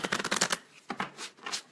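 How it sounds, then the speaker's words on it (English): Tarot cards are shuffled close up during a tea-and-tarot reading session, a quick riffling burst followed by a few softer separate card flicks and slides. "And we'll get these shuffled."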